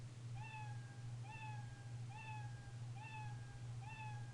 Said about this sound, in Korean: 야옹야옹 소리가 나오는 것이 야옹하고 그게 끝나고 나서 또 그 다음 야옹, 또 그 다음 야옹 이렇게 된다는 겁니다